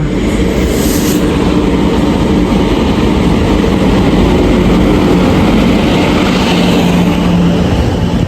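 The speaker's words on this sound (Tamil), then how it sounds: "நம்ம ட்ரெயின் வந்துருச்சுங்க" A heavy passenger train arriving at a station in Tamil Nadu rumbles steadily nearby, a loud continuous low roar of engine and rolling wheels that holds without pause.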